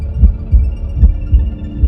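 A heartbeat sound effect from an audio drama: deep, close, thumping double beats at a steady slow rhythm, about two per second, over a low hum, no voices.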